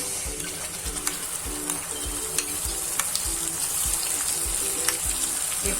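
Spice masala mixed with yogurt going into a pan of sizzling onion and garlic for a Gujarati methi seed curry; continuous close frying sizzle and stirring scrapes, with regular rhythmic thumps and faint bird coos in the background.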